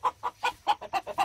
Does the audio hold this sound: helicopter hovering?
no